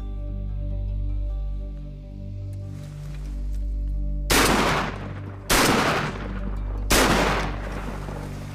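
Three loud, close shotgun blasts ring out during a duck hunt, spaced about a second apart, each with a sharp crack and brief decay.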